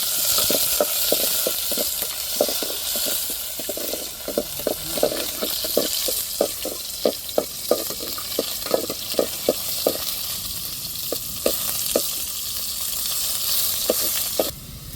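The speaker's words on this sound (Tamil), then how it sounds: "இப்போ வெங்காயம் சேர்த்துக்கிடுவோம் தாளிப்புக்கு." Onions sizzling in hot oil with whole spices, tempering for a prawn curry: a steady bright frying hiss with frequent sharp pops and spatters all through, close and fairly loud.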